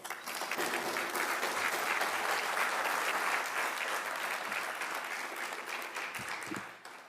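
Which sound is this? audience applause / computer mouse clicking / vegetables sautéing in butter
audience applause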